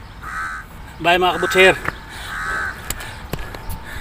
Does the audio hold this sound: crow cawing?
yes